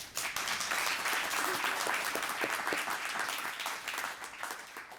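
An audience at a presentation on the cost in lives of the Cuban Revolution claps loudly and steadily, a dense close round of applause that holds for several seconds and tapers slightly near the end.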